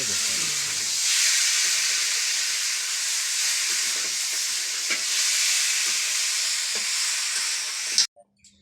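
Country chicken meat curry with potatoes boiling in a pot, a steady bubbling sizzle and hiss running continuously, close and even, with faint clinks and a sudden cut near the end.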